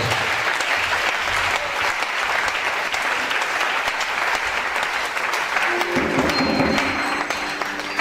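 Loud, sustained applause fills a church congregation for the full stretch, with cheering and a few raised voices mixed into the dense clapping.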